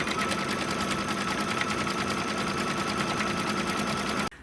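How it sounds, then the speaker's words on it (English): Embroidery machine stitching the first construction line around the outside of a stocking, a close, steady rapid needle clatter running continuously for about four seconds before stopping abruptly. "finished stitching that first construction line, and it didn't go all the way around"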